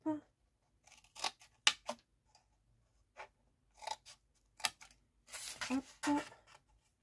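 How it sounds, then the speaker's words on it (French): Scissors snip a small square corner of paper at an angle while making a box, giving quiet, close, crisp cutting clicks in uneven bursts with soft handling noises between. "Et c'est le côté que je coupe, le petit carré du coin que je coupe en biais."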